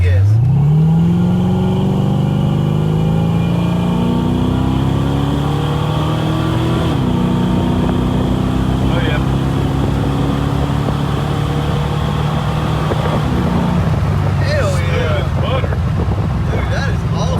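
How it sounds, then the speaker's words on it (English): A Ford Foxbody with a built AOD automatic transmission pulling at just under half throttle, its engine droning steadily upward through the gears with audible shifts, loud and close over heavy wind noise, with a voice talking at points. "we'll go about just a touch under half throttle here"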